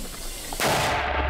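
A Ukrainian mortar fires in a field position. One sharp, loud blast breaks in partway through and leaves a heavy rumbling tail, after a stretch of quieter background noise.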